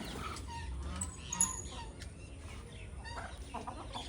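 Soft clucking and chatter of chickens and turkeys nearby, quiet and intermittent, with a few faint voices.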